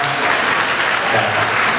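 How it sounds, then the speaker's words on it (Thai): Wedding guests at a Thai wedding celebration applaud the bride's and groom's parents, a dense, steady burst of clapping from a sizable crowd filling the room for about two seconds. "ขอเสียงปรบมือให้กับคุณพ่อคุณแม่ของ เจ้าบ่าวเจ้าสาวด้วยนะครับ"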